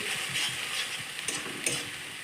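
Spice paste frying in a small amount of oil for Bengali shrimp malai curry, a steady close crackling sizzle with faint stirring scrapes throughout, no voices.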